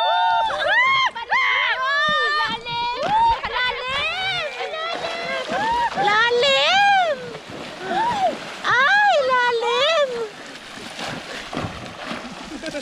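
People swim and splash in the sea at high tide, with water sloshing throughout under constant excited voices, shouts and laughter nearby.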